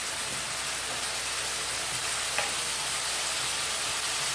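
Masala paste for aloo palak fries steadily in oil, a soft even sizzle like light rain that holds at one level throughout, with a single faint tap midway and no talk.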